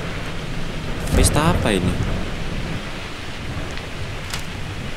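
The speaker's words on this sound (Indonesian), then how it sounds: "Mana di luar hujan lagi." Rain falling outside in the Roblox game Night Shift, a continuous hiss with a rumbling swell partway through, heard under a man's excited speech.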